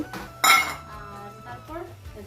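Potatoes tipped into a pot of duck meat curry, a loud burst of clattering metal and clinking against the pot, followed by quieter scraping and stirring.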